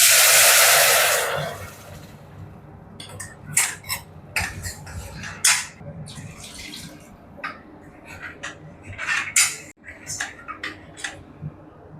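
A mixer grinder roars loudly for about two seconds, grinding sautéed onion and coconut into paste for a drumstick-leaf buttermilk curry. Then come scattered clinks, taps and kitchen handling noises.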